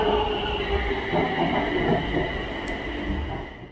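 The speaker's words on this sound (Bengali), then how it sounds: "এই হচ্ছে গ্রিন লাইনের ট্রেন।" Bangkok BTS Green Line metro train running, a steady loud rumble with a sustained tonal hum and faint wheel noise, close by and continuous, without talk.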